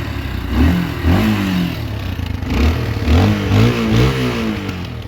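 A Honda Cityfly 125 motorcycle with an aftermarket exhaust is revved up close, a series of blipping throttle surges rising and falling roughly once per second over a burbling idle.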